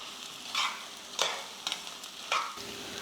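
A spoon stirs fried chicken into a masala in a pan, giving several distinct scraping clacks over a low, quiet sizzle; no talking.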